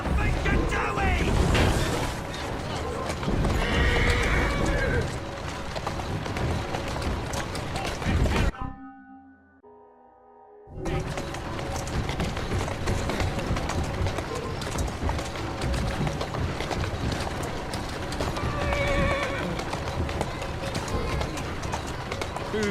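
Horse's hooves drumming at a gallop in Assassin's Creed Syndicate, a busy, continuous rush of game sound with a brief drop to near silence midway before the hoofbeats and clatter resume.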